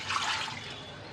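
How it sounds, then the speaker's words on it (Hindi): Half a litre of water poured from a steel glass into a pressure cooker holding meat pieces: a brief, close, steady gush of splashing water with no voices. "½ लीटर पानी आपने डालना है।"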